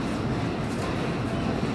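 A train rolls past near an overbridge, a broad steady rumble and rush of wheels and carriages that fills the whole short stretch at moderate level, with no clear talk.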